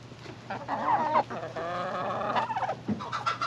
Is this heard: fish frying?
no